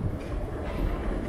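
An Athens metro subway train rumbles in a low, steady roar from inside the carriage, continuous and fairly loud with no talking.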